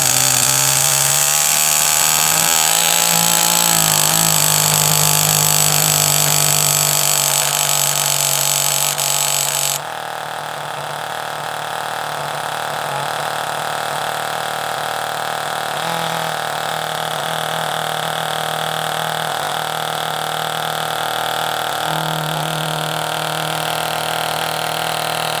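A car engine runs loudly and steadily close by, its tone shifting partway through as fuel starts coming through, then settling into a lower, even drone.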